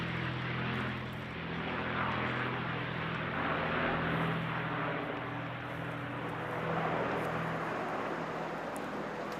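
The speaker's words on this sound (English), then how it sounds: "as the Phenom and 2 Texans fly over" An Embraer Phenom jet and two Texan aircraft pass overhead in a Royal Air Force flypast at Trooping the Colour, making a fairly faint, continuous, rushing engine roar with a low humming undertone that swells and eases slightly.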